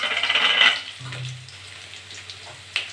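Crushed garlic dropped into hot oil with panch phoron and dried chili, a brief bright sizzle at first that quickly settles into a soft, quiet frying hiss, with a faint clink near the end.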